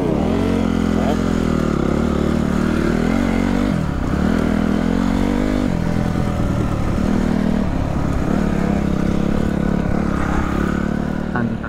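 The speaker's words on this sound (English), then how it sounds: "That's a two-stroke for you there." A two-stroke dirt bike engine revs at a hill-jump riding spot, its loud, buzzing note rising and falling steadily for about twelve seconds with no quiet gaps.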